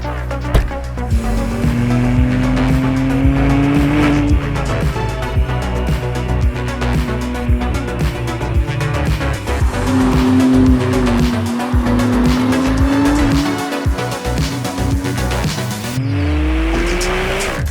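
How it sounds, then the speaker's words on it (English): A 2024 McLaren Artura supercar launches hard under launch control, its engine note climbing steadily through gears with rising harmonic pitch, loud and close, with a brief tire squeal and a gear change near the end. "'24 McLaren Artura with launch control."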